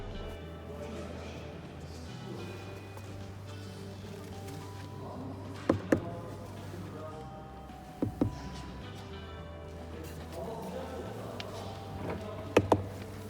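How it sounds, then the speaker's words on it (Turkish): Three short pairs of sharp taps on hard plastic rear interior trim of a Skoda Octavia 1.0 TSI ring out over a low steady hum, spaced a couple of seconds apart. "Tıklatma testimizden de duyduğunuz gibi arka tarafta sert plastik malzeme olsa da"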